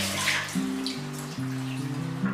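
Rehydrated dried tofu skin rinsed under running water from a tap, a steady close wash with shifting splashes and tonal trickling throughout, no voices.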